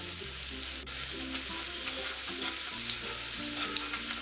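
Chopped red shallots sauté in hot oil with popping mustard seeds, a steady close sizzle with faint crackles and occasional stirring scrapes, continuous and even with no talking.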